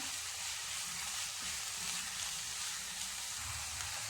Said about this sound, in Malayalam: ഇട്ട് ഒന്ന് നന്നായിട്ട് വഴറ്റി കൊടുക്കാം ഇതിലേക്ക് കാൽ സ്പൂൺ മഞ്ഞൾപ്പൊടി ചേർത്ത് കൊടുക്കാം എന്നിട്ട് ഇളക്കി കൊടുക്കാം